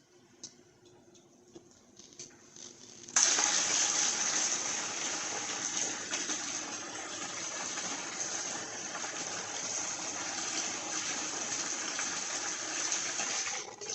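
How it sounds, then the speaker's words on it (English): Quiet at first, then a sudden strong rush of water begins and keeps gushing steadily through the heater core of a 2012 Chrysler 200 3.6, a loud continuous flow close by. "let's just flush the water through there and see what happens"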